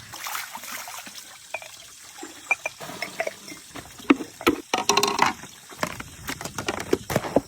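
Water runs and splashes while dishes are rinsed, with irregular trickles, drips and clinks up close that grow busier toward the end.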